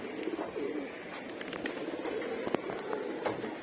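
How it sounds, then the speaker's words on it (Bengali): Pigeons let out of a loft make soft cooing and fluttery wingbeats, with a few sharp claps and taps, all faint and somewhat distant. "চিন্তা করলাম কবুতরগুলো ছাড়ি"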